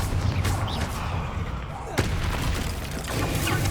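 Bombarda and Confringo spell blasts in Hogwarts Legacy go off as booming explosive bursts, one sharp thud standing out midway among rolling impacts, with game effects and faint voices in the mix.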